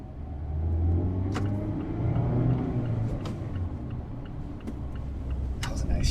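A manual 2021 Mazda MX-5 Miata engine hums and rumbles from inside the car. Its pitch rises and drops through a gear change, and a few faint mechanical ticks from the shifter can be heard.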